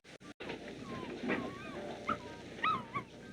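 A dog whimpers and yips in a wartime film, giving several thin, rising whines and short high cries at close range over a hissy, noisy soundtrack.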